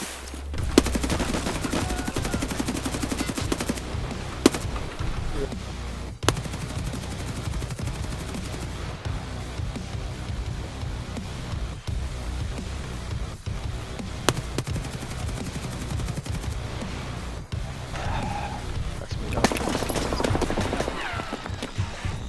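RPK-16 machine gun in Escape From Tarkov, with dense sustained automatic fire heard throughout at close range and occasional sharper individual shot transients standing out from the loud, steady clatter.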